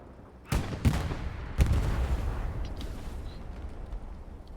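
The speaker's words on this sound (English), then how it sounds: "But the tanks here shooting away." Tank cannons fire in an esports video game match: three sharp, heavy blasts come in quick succession early on, then give way to a rumbling, fading tail with faint distant noises.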